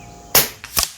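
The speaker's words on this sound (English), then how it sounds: "I'll try to wait for the ribbons to go flat when I shoot these" A .25 Avenger air rifle firing H&N slugs outdoors gives a sharp, loud crack, followed about half a second later by a second, fainter report.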